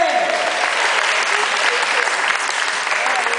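Audience applause, a dense sustained clapping from a crowd that stays loud and steady throughout without pause.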